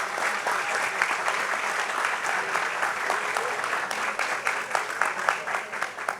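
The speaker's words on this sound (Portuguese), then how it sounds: "eu queria pedir uma salva de palmas para o senhor quase itabirano" Audience applause at a public talk in Brazil, a continuous round of crowd clapping that stays steady and then turns more uneven toward the end, with no one speaking.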